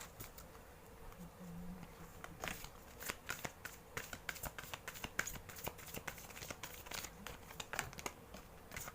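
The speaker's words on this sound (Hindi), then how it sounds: "let me pull one more card" Oracle cards are shuffled and drawn in a steady stream of soft, rapid riffling flicks and slaps, close and fairly quiet throughout.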